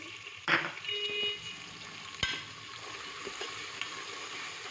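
A soft, steady sizzle of ginger garlic paste frying in oil, broken by a few spoon scrapes and a sharp clink against the pan.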